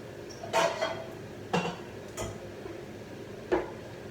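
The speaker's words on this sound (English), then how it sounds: "As we don't have an extra lid, I'm gonna put this on top." A makeshift cover set on top of a pot of Sicilian caponata in a home kitchen, giving a few light clinks and knocks, three or four separate taps spaced about a second apart, quiet and close with no talking.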